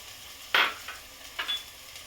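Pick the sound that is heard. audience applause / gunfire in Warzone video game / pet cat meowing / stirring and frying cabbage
stirring and frying cabbage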